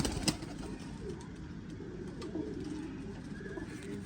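Domestic pigeons coo softly and steadily over a low, continuous rumble of birds, a brief sharper call near the start, with faint voices in the background.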